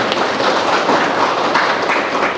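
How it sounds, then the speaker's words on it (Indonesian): A classroom of students claps for their classmates on cleaning duty, a dense, even patter of many hands filling the room for a couple of seconds. "Tepuk tangan untuk yang piket hari ini"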